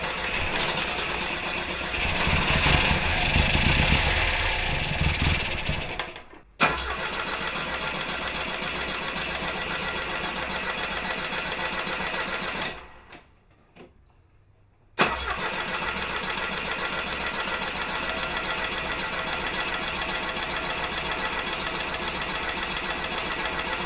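An engine is cranked repeatedly with starter whirring in bursts, catching and stumbling, cutting out twice before running at a steady, loud mechanical idle for the rest of the clip.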